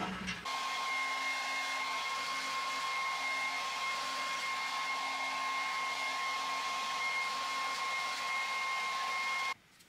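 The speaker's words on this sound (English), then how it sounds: "into the dryer it goes" A clothes dryer runs with a steady electric hum and whining tone, continuous at moderate level, cutting off abruptly at the end.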